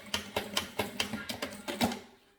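Sewing machine backstitching back and forth over a zipper while making maternity organizer bags, heard as a quick run of about ten sharp, evenly spaced mechanical clacks, close and alone, fading at the end.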